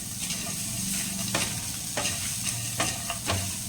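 Coconut stirred and roasted in a hot pan for a biryani-side eggplant gravy, with a steady frying hiss and several sharp scraping strokes of the spoon at irregular intervals, close and moderately loud, no talking.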